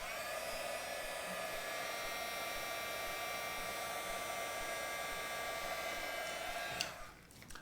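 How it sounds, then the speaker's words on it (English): A heat gun blows a steady, loud airy roar with a faint hum as it heats paint, then cuts off near the end, leaving a brief quiet rattle. "now we're going to take our handy dandy heat gun and try and brighten it up again"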